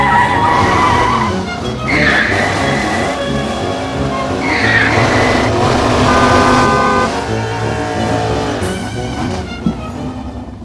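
A car skids with loud, drawn-out tire squeals, several screeching bursts over a steady engine roar, with a short horn-like toot near the end, close and continuous with no talk.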